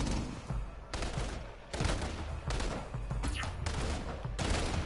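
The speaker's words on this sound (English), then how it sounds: "I hear that machine gun fire" Bursts of automatic machine gun fire in a video game, several long rattling volleys separated by short pauses, loud and close throughout.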